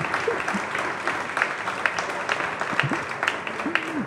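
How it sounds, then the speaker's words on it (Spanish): Audience at an autumn cultural presentation applauds a technician working without lights, a steady mid-level patter of many hands with a few voices and whoops mixed in. "¡Un aplauso para el técnico que está sin luces!"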